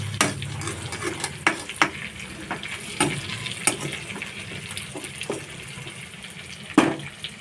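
Chicken meat frying in a pan as spices are added and stirred, a steady low sizzle broken by repeated scraping and clinking of the utensil against the pan, close and fairly quiet.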